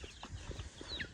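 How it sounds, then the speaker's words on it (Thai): Chickens on a farm where cattle are taken out to graze cluck in short, scattered bursts, near and fairly loud, with a brief higher squawk toward the end over a busy outdoor background. "ไก่นี่แหละ"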